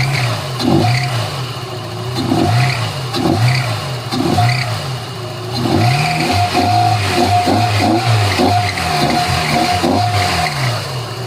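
A Mazda Miata engine with freshly repaired wiring revs repeatedly, its rising and falling pitch steady and close, with brief blips followed by a longer sustained rev toward the end.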